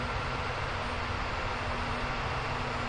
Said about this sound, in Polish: Silnik nam się tutaj stabilizuje już